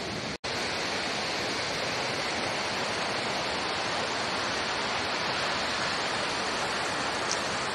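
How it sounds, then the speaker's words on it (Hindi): The largest waterfall on the Kedarnath trail roars continuously, a dense, even wash of rushing water that stays loud and unbroken throughout. "केदारनाथ मार्ग का सबसे बड़ा झरना था, जो काफ़ी वेग से पानी नीचे की तरफ गिरता है"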